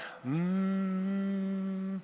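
An audience hums a steady, droning tone together, imitating a time machine starting up, held evenly for nearly two seconds.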